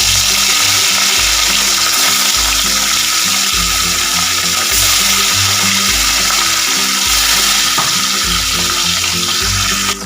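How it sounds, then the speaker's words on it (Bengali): Fish coated in salt and turmeric frying in hot oil, a loud, continuous close sizzle with a few faint clinks, and no voices. "এবার এতে আমি দিয়ে দেব নুন হলুদ মাখানো মাছটা"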